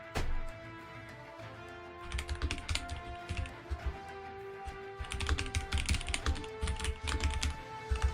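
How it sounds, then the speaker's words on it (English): Rapid bursts of clicking keystrokes on a computer keyboard during a live online game match, coming in uneven clusters with short pauses between them. "my typing is all over the show"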